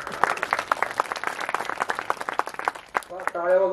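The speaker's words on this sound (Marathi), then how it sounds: "टाळ्या बाजून हा एक व्यायाम आहे" Rhythmic hand clapping from a kirtan gathering, a steady run of close, even claps for about three seconds before a voice starts speaking.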